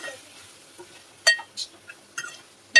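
Spices being stirred into goat liver in a pan, a few brief scraping and clinking strokes of a utensil against metal with quiet gaps between, close and fairly crisp.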